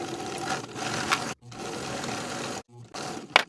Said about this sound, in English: Now that I have my hemband pinned from one side to the other, I'll sew in place with a 3/8 inch seam allowance.